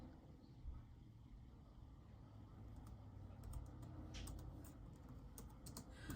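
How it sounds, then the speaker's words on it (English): Quiet, irregular one-handed tapping on a computer keyboard, with bursts of keystrokes over a low background hum. "Typing with one hand."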